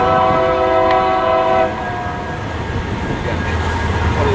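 A nearby freight train at Ontario, California sounds its horn in a loud, sustained blare, then the heavy rumble of the passing cars continues.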